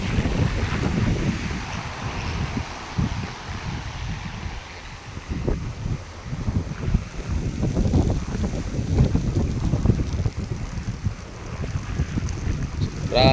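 Strong wind roars and buffets against the microphone in heavy, uneven gusts, loud and constant throughout.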